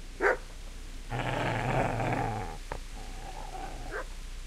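A video-game dog gives one sharp bark, then a sustained, rough growl lasting over a second, followed by quieter snarls and a short final yelp-like sound, loud and close with no talk.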